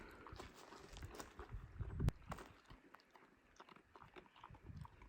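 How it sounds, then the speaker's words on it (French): A thin stray dog eats dry kibble, its crunchy chewing and biting faint and close in a quiet outdoor setting, with one sharper crunch midway. "on avait encore des croquettes et on lui donne à manger"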